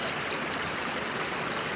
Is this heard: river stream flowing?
yes